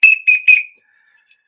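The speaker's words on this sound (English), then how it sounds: "Let me blow the whistle on that." A whistle is blown three times in quick, short, shrill blasts, loud and close, followed by a faint trailing tone.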